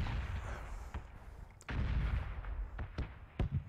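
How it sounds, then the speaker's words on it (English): Gunfire in the PUBG video game: distant repeated shots and booms, several sharp reports spaced irregularly over a steady rumbling background. "I'm damn sure hear a lot of shooting"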